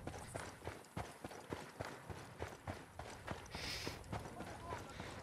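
Horse hooves clip-clop in a steady walking rhythm in the open-world game Ghost Recon Wildlands, moderately close, with continuous game ambience and someone talking over it.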